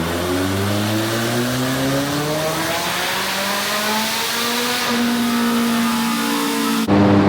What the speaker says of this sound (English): down here at the dyno working on race cars